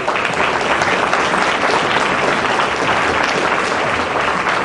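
Loud, dense audience applause fills the room for bikini competitors at a 2010 IFBB pro bikini contest, steady and unbroken throughout with no pauses.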